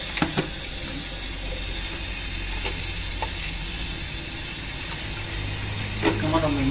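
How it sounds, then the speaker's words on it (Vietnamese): Tap water runs steadily while pork bones are washed in salt water in a kitchen, with occasional clinks and splashes under a continuous flow. "Mình mới rửa nước muối, rửa sạch rồi, rửa nước muối qua nước muối rồi."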